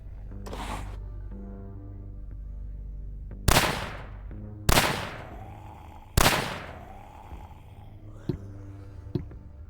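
Gunfire in the zombie survival game Terminus Zombie Survivors, with three sharp, loud shots spaced a second or more apart, followed by a couple of fainter clicks over a low background hum.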